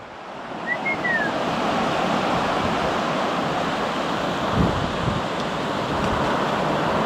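Ocean waves wash onto a beach in a steady, loud broadband roar of surf, with a dog nearby and a brief higher call early on.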